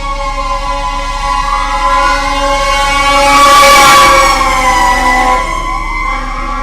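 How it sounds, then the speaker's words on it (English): A loud emergency vehicle siren wails steadily outside, its rising and falling tone swelling as it passes nearby and then receding slightly, with no talking over it. "And we've got an obligatory siren going on."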